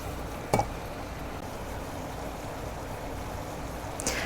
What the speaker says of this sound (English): Now I'll just cook those on medium heat until they are soft and translucent.